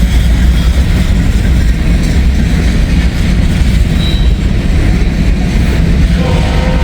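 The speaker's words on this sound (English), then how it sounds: "I wonder what train this is" A train rolls past in Hamilton, Ohio, a loud, steady rumble of railcars with wheel noise filling the whole stretch and a brief squeal of wheels toward the end.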